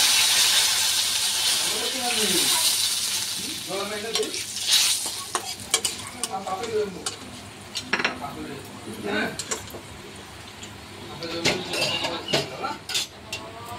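Panch phoron spices and bay leaf crackle and sizzle in hot oil with a strong hiss that fades over time, broken by scraping stirs and clinks of a utensil against the pan, while a voice talks over it.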